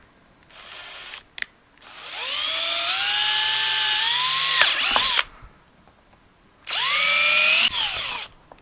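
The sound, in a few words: power drill drilling through PVC pipe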